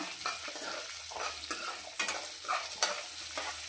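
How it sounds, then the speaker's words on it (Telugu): Chopped onions and sesame seeds frying in a pan, a soft constant sizzle under repeated spoon stirring and light scraping strokes, close and fairly quiet. "ఉల్లిపాయ ముక్కలు కూడా వేసేస్తున్నా. సింపుల్గా ఇలా అన్నీ వేసేసి వేయించుకుందాం."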